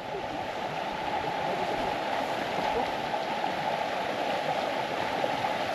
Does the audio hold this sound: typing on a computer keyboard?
no